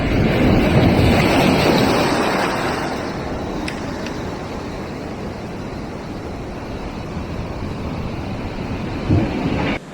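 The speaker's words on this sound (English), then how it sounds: "Just a little bit tricky to fish with these waves coming in." Sea waves break and wash onto the shore where someone is lure fishing for bass, a loud, close surf roar with wind buffeting the microphone that eases slightly after a few seconds and then continues steadily, with no talking.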